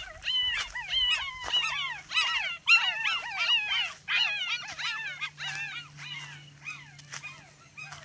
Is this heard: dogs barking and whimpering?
yes